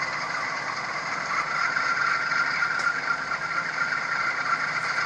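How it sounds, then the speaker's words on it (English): A GE ES44AC diesel locomotive engine in a train simulator game drones steadily as it revs, a continuous mechanical hum with whining tones and a faint rattle, holding fairly even and alone. "what I'm going to do is rev up the engine by pressing F9"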